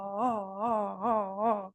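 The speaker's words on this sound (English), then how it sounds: "it is a guttural sound" A single voice produces a guttural qigong healing sound for the spleen, a sustained moaning, wavering tone in four swelling pulses, fairly loud and close, with no other talk.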